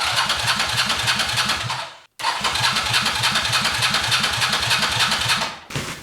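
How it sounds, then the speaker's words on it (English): A motorcycle engine with its spark plugs removed turns over on the starter without firing, a loud rapid mechanical chugging in two long bursts split by a brief silence. "So what I do, I turn on the ignition and I run the motor"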